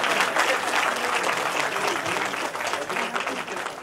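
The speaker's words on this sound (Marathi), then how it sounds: "मात्र जास्त टाळ्या वाजवायच्या आहेत" Audience applause at the MCGM Mayor Award 2023 ceremony, dense steady clapping from a crowd filling the whole short stretch at moderate level.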